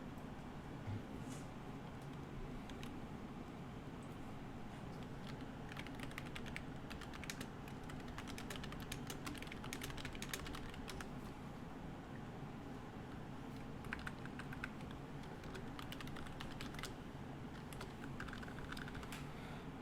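Fingers type on a computer keyboard while someone follows along in a spreadsheet lesson, giving quiet, steady clicking with irregular bursts of keystrokes and no talking.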